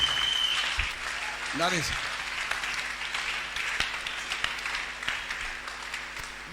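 Congregation clapping in applause at a church service, a dense steady patter of many hands filling the room, with a voice speaking over it.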